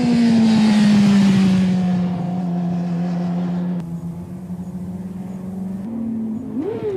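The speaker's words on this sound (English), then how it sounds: "He's revving it, but too high, and still on and off the brake lever, pogoing the bike." A motorcycle engine held at a high, droning rev then dropping and rising again through downshifts, loud and close, with a brief throttle blip near the end.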